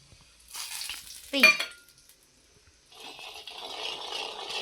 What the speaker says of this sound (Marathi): तेल गरम झालं की हे मसाले टाकून घ्यायचे.